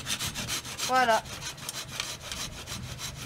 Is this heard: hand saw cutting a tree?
yes